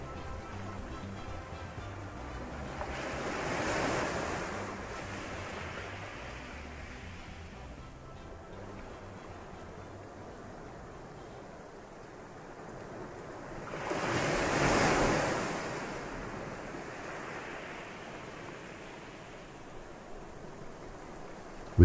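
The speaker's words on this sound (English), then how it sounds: "your focus shifts to the soothing sound of the water lapping onto the beach." Ocean waves lap onto a beach in slow, soft swells, rising and fading twice amid a gentle background wash and faint wind.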